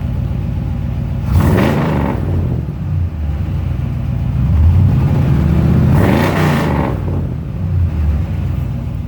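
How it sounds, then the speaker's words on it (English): A 1971 Ford F250 truck driving, its exhaust giving a steady low rumble with two rising surges of revving as it accelerates, close and loud throughout, no talking. "she's got a real nice exhaust note"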